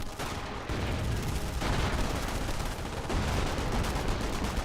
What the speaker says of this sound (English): Half Track firing away